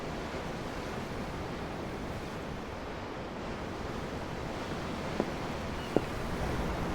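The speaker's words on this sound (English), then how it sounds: "I'm looking at the ocean. The ocean? Yeah. The waves." Ocean waves in the video game Tales of Arise, a steady broad wash of surf and wind-like rushing, with two faint brief ticks near the end and no talk.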